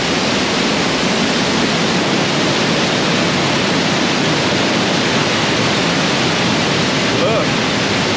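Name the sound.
rushing waterfall in Banff National Park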